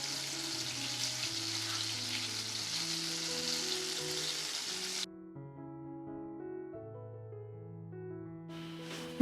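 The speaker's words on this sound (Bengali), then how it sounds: "বাটারটা যখন পুরোপুরি গলে যাবে তখন আমি এর মধ্যে রসুন কুচিগুলো দিয়ে দেব।" Chopped garlic sizzles in melted butter in a pan: a soft, steady hiss under background music that cuts off about halfway through, leaving the music alone.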